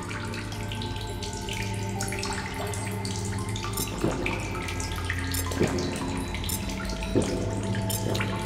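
Water running from a source in The Solus Project video game while the character drinks, a steady trickling flow with a few splashy bursts and clicks, no talk over it.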